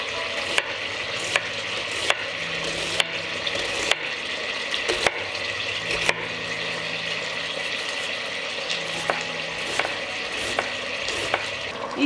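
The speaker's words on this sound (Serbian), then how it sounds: "Šnicle ću pržiti po nekoliko minuta sa obe strane" Schnitzels sizzle in a frying pan with a steady, moderate hiss, broken by occasional sharp clicks and scrapes from handling in the pan.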